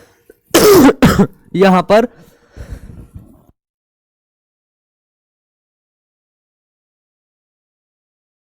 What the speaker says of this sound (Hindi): यार गजब है खांसी आ रही